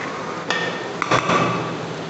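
White lentil daal (mash) with garam masala, kasuri methi and water is stirred in a pot. A metal spoon gives a few close, sharp clinks against the pot over a steady hiss.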